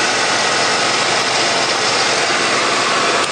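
A car engine idles in cold weather, a steady, even hum that runs unbroken and fairly loud throughout, with no voices.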